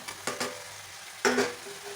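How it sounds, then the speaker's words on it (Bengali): Boiled jackfruit and potatoes stir-frying with Kashmiri chilli powder in a pan, two brief bursts of sizzling and spatula stirring over a low steady hiss, close and moderately loud. "ভালো করে এটাকে কষে নেবো"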